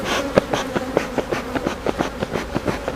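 A honeybee colony buzzes up close, loud and steady, with a rhythmic series of quick tapping pulses running through the drone.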